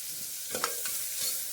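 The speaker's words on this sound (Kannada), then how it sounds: "ಸ್ವಲ್ಪ ಒಂದು ಆಲೂಗಡ್ಡೆ, ಸ್ವಲ್ಪ ಬೀನ್ಸು ಹಾಕಿ ಒಗ್ಗರಣೆ ಹಾಕ್ತಾಯಿದ್ದೀವಿ" Potato and beans being tempered in a frying pan, a faint steady sizzle with a few soft stirring scrapes, close and quiet.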